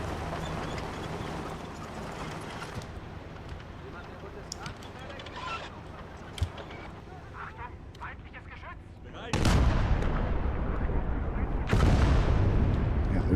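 Tank and gun fire in the Call to Arms - Gates of Hell: Ostfront video game during a January 1942 battle around Glushkovo, with distant shots and rumbling at first and then two loud, heavy cannon blasts that roll on over a noisy battlefield.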